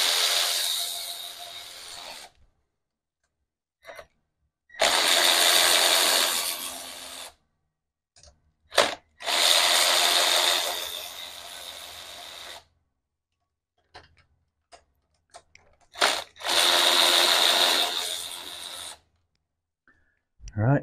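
A power tool loosens carburetor bolts on a Honda GL1100 Goldwing motorcycle: four loud, whirring bursts of a couple of seconds each, separated by silent pauses and a few sharp clicks.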